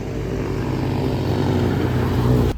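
A camera drone flies over a wide tree-lined road, its steady motor drone and propeller buzz loud and continuous throughout, cutting off abruptly at the very end.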